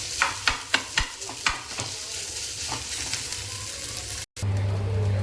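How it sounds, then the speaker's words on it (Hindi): Food being stirred and mixed in a frying pan for dahi vada chutney, with sharp spoon knocks against the pan at first, then sizzling and scraping before a brief cut and a steady frying hiss. "और अब इसे करेंगे मिक्स मिक्स मिक्स।"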